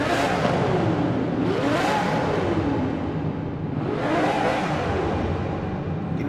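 Aston Martin Vulcan engine in a tunnel in Forza Horizon 4, revving in two sweeping rises and falls with a loud continuous roar and echoing whine, no talk.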